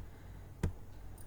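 A single crisp computer mouse click in an OpenOffice session, faint and close, standing alone against a quiet room hiss.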